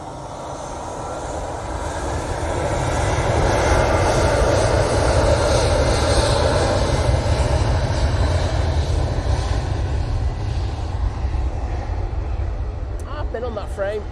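An airliner takes off for Amsterdam Schiphol from Manchester Airport, its engines building into a loud, steady broadband roar that holds for several seconds, with a voice talking over it.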